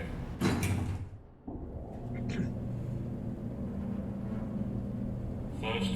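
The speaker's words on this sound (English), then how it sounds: "Doors opening." Lift doors in the Train Sim World 4 video game on the Suffragette Line slide with a brief whoosh and thud, followed by a steady mechanical hum and rumble, with someone talking over it.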